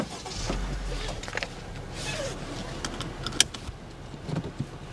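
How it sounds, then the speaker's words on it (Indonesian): A 2021 Honda City Hatchback RS starts up with a brief low rumble, then settles into a faint, quiet idle with a few light clicks and rattles and no voices. "Langsung saja kita nyalakan mobil ini."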